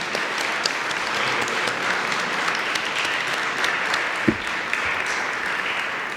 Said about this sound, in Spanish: Por favor, un aplauso muy grande para nuestra invitada.